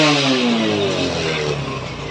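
A TVS Apache BS4 motorcycle engine revs steadily during tuning, a close, loud, continuous mid-pitched drone with shifting harmonics as the RPM climbs and eases slightly, heard alone without talk.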